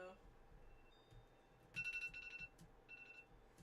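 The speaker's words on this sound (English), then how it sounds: "ignore the alarm, that's my alarm" An alarm goes off during a game stream, a series of short electronic beeping bursts sounding in a rhythm and growing louder partway through, with steady background noise and no talk.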